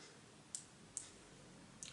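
Twist-up matte lip and cheek velvet stick in Poppy Pink being turned, producing three faint, sharp plastic clicks spaced apart in a quiet room.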